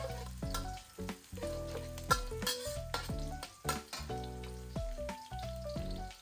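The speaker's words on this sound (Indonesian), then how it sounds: "Bawang merah ini saya tumis sampai layu aja" Shallots sautéing in a pan while cooking Ayam Lado Hijau Koto Gadang, giving a steady close sizzle with occasional stirring clinks, largely masked by prominent melodic background music.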